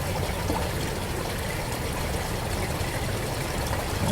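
Stream water runs steadily beside a raccoon trap set in an Appalachian creek, a dense, even rush with no breaks that stays close and fairly loud for the whole stretch.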